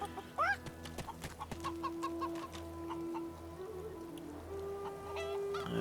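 Chickens in the fantasy role-playing game Divinity 2 cluck in short, repeated, fairly quiet bursts over a steady background hum and ambient game tones.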